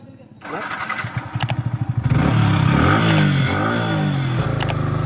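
A motorcycle on a ride from Jalpaiguri to Lataguri cranks, catches with a rapid putter, then revs into a loud, close, rising engine roar that settles into a sustained drone.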